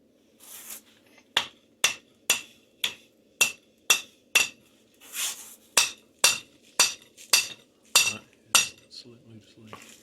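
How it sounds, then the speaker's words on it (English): A series of sharp metallic hammer taps loosening an axle sleeve on a Honda Rancher 420 rear differential, about a dozen strikes in an uneven rhythm, close by, with a low mechanical hum underneath. "hit the end of the thing gently with the hammer, and it will slide down here"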